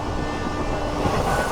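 A passenger express train rumbles at platform 2 of Santragachi Junction railway station, a steady dense roar of wheels and engine close by, with no talk.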